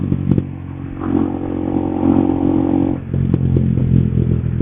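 A Honda CBR 150R K45N motorcycle is being ridden, its engine giving a steady, close rumble with some clatter and a rise in revs partway through.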